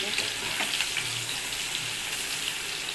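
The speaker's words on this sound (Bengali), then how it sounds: "এবার আমি দিয়ে দিচ্ছি রসুন কুচি পেঁয়াজের সাথে রসুনটা দিয়ে দিলে রসুনের গন্ধটা আসবে না" Chopped garlic and onion fry together in a pan, making a dense, continuous crackling sizzle with faint stirring noises, close and steady throughout.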